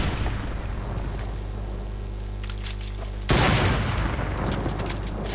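Steady stream of video game arena gunfire over a dense, noisy background, with a louder burst of shots kicking in partway through; no clear talk.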